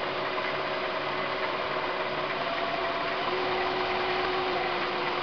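A wood lathe turns a coloured sycamore dish at around 1200 rpm while a 5/8 bowl gouge with a fingernail profile cuts the top, giving a steady close motor hum with a continuous scraping cutting noise.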